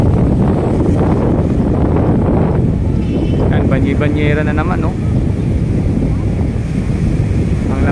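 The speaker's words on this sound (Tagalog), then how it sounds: "malakas yung alon at medyo malakas din po mga kabayan yung pag-ihip ng hangin" Strong wind buffets the microphone over a constant wash of waves and surf at Manila Bay, with a person speaking briefly in Filipino partway through.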